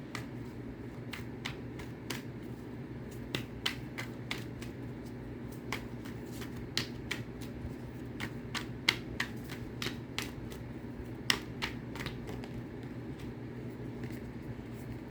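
Tarot cards shuffled and pulled from a deck, a series of crisp, close card snaps and flicks scattered irregularly over a low steady background hum, no speech.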